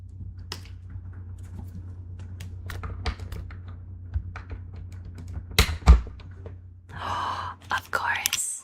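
Keys on a Razer computer keyboard click in sparse, crisp taps at close range, scattered irregularly over a low steady hum, followed by soft breathy whispering near the end.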